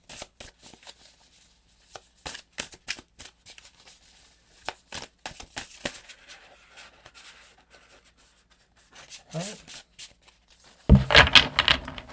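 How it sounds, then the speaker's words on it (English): A 150-card oracle deck is shuffled by hand in soft, irregular riffles and flicks that stay close and fairly quiet, ending in a louder burst of handling. "A little bit difficult to shuffle."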